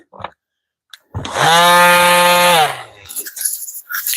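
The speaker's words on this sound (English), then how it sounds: "Let's hit this with a little sanding." A loud power sander whines for about two seconds, steady and close, then winds down, during a mini truck camper build. Brief knocks come before it and clatter follows.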